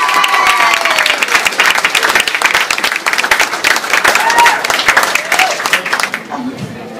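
A crowd gives enthusiastic applause for the Junior Fair King and Queen, dense clapping with cheers and a voice over it, steady and loud before tapering off at the end.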